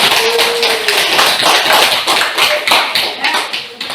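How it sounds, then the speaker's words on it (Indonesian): Students in a classroom clap together after a presentation, a close, loud run of rhythmic claps with distinct beats, and a brief voice sounding faintly beneath them. "Oke, tepuk tangan."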